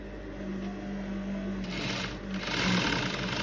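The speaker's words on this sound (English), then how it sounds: "So I'm going to sew another line." A sewing machine runs continuously while stitching shirring lines on fabric for an off-shoulder dress, a close, steady mechanical whir that grows slightly louder toward the end.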